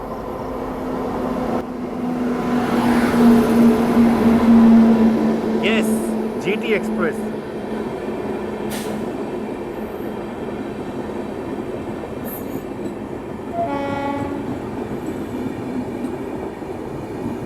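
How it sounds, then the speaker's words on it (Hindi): GT Express train running alongside on a parallel main-line track, a steady rumble of wheels and carriages that swells and then holds, with a brief horn-like tone near the end. Voices talk over the train noise. "ये मेरे ख्याल से जीटी एक्सप्रेस जो है वो आ रही है, मतलब पैरेलल में ओवरटेक ही कह सकते हैं उसको।"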